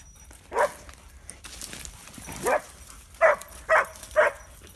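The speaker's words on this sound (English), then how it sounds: "Fucking dog's going crazy." A dog barks excitedly outdoors during a wild hog encounter, giving a few scattered yelping barks and then three quick loud barks in a row, with faint background noise between.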